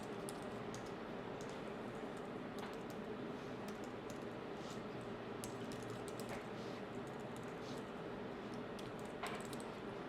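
Someone types personal details on a computer keyboard, with steady soft key clicks running throughout under a constant low room hum.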